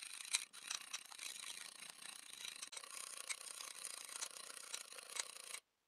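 Egg white being beaten by hand in a bowl until foamy, a steady fast scratchy whisking rasp running continuously at close range, quiet overall, then stopping abruptly near the end.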